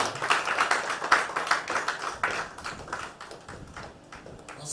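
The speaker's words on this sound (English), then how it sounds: "Can we give this project a round of applause?" A small audience at a farming initiative workshop claps for a project, a brisk patter of hands that stays fairly close and gradually tapers off over a few seconds.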